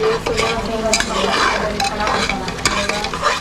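Tomato and green masala with coriander, green chilli, mint, garlic and ginger paste sizzle loudly in a hot pan, with steady frying hiss and repeated scraping stirs close by, no talking.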